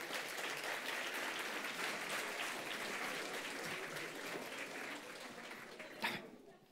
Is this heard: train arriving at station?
no